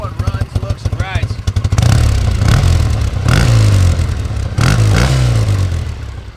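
A 1979 Triumph T140E Bonneville motorcycle engine runs close by, first with a quick throbbing idle, then in loud rising and falling revs. A voice can be heard faintly under the engine.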